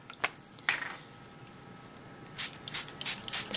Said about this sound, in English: I'm just going to spray one side.